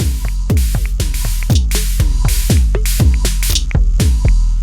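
A loud, steady electronic drum pattern from an FAC drum kit driven by a Euclidean MIDI sequencer, with booming kicks and snappy hits repeating in a tight, driving loop.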